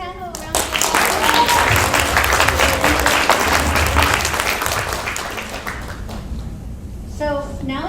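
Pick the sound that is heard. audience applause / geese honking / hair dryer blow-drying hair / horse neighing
audience applause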